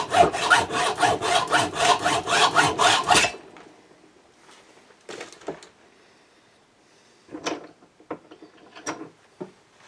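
A hand saw cuts a 45-degree bevel on a piece of wood with about a dozen quick, rhythmic rasping strokes, loud and close, then stops, leaving scattered faint knocks and handling noises.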